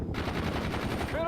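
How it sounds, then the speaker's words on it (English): Rapid automatic gunfire in the war game World in Conflict, a dense continuous burst of close shots lasting the whole moment, loud and steady with no pauses. "We're under fire!"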